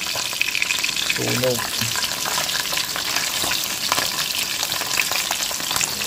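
Fish frying in a pan, with a steady, close, continuous sizzle throughout and a brief voice in the middle.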